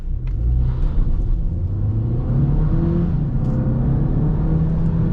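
A 2021 Audi A3 sedan with a 1.5 TFSI 150 hp engine pulling away from a standstill, heard from inside as a loud, steady engine drone and road rumble with rising pitch through the gears.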